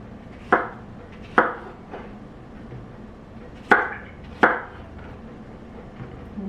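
Knife chopping zucchini on a cutting board, six sharp, separate cuts at an uneven pace, close and crisp, with no talking.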